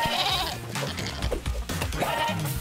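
Goats bleat over busy game music and effects in the video game Moving Out 2, several short nasal cries rising out of a dense, loud mix.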